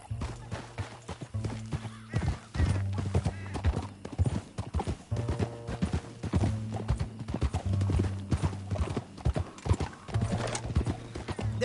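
Horse hooves clip-clop steadily at a trot in Red Dead Redemption 2, a close, loud rhythmic clatter running throughout, with low tonal game music underneath and a brief whinny.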